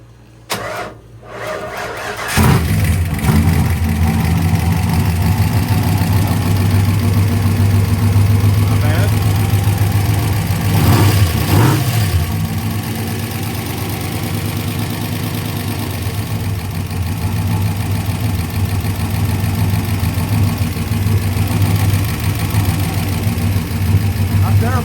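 A trooper car's engine cranks and catches after a couple of seconds, then settles into a steady, loud mid-pitched idle that runs on without a break, heard up close with faint voices briefly under it.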